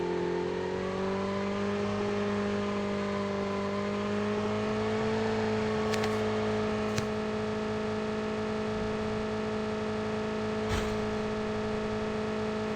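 A motorbike in Call of Duty Mobile is ridden toward a hill, its engine droning steadily and rising gently in pitch over several seconds. A few sharp clicks and a gunshot-like crack cut through.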